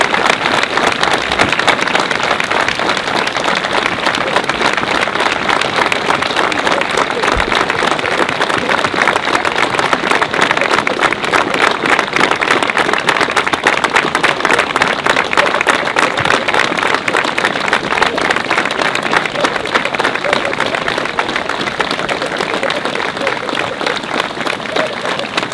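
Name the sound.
crowd applause at outdoor rally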